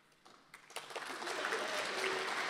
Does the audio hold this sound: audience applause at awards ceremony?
yes